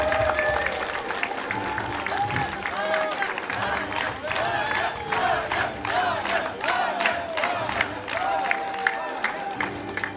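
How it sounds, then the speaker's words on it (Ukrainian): School award ceremony crowd applauding and cheering, sustained clapping with whoops and shouts rising through it, while a presenter's voice carries over the noise. "Вітаємо шаленими оплесками!"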